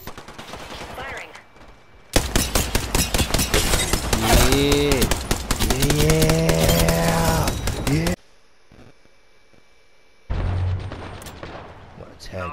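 Apex Legends gunfight with sustained automatic weapon fire: long loud bursts of rapid shots, a short lull, then another burst, mixed with tonal game effects and occasional voices.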